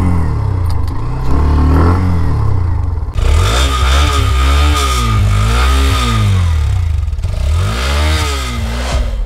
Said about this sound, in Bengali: আর বাইকের ইঞ্জিনের যে সাউন্ডটাও কিন্তু পছন্দ হওয়ার মতো